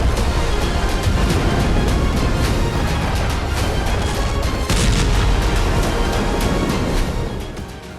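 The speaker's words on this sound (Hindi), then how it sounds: "यूक्रेन का पहला यूएसवी धमाका हुआ और उसके बाद रूस ने यूएसवी पर फायरिंग शुरू कर दी।" Explosions and gunfire from a Ukrainian uncrewed surface vessel attack on a Russian ship in the Black Sea, a dense, continuous roar of booms and firing over rumbling, surf-like noise that tapers slightly at the end.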